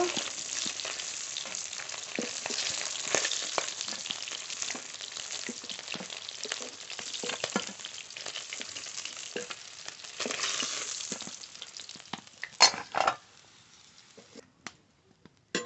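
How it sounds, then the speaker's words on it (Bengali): Ritha fish frying in a pan of hot oil makes a dense, continuous sizzle with scattered stirring and spatula clatter, easing off toward the end with a few sharp crackles. "আরো মাছ ভেজে নেব"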